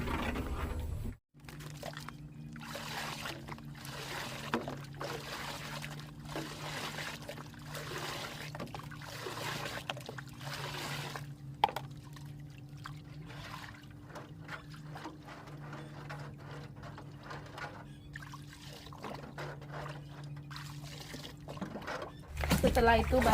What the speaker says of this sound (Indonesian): Nanti kalau mau disiram ya diaduk dulu seperti ini.